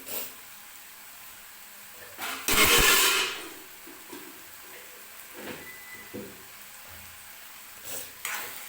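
Masoor dal and onion mixture being stirred in a hot pan, a soft background sizzle broken by a loud burst of frying around the middle and a few scraping stirs, close with no voices.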